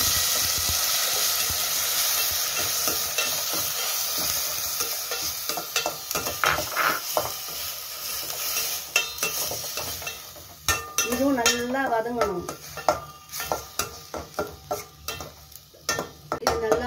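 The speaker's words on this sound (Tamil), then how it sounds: "வெங்காயம், சோம்பு, பச்சை மிளகா 3 அரைச்சி கலவை இப்போ இதில் போடுறேன்" A ground paste of onion, fennel and three green chilies hits a hot pan and fries with a steady loud sizzle, followed by a utensil stirring and scraping in irregular strokes.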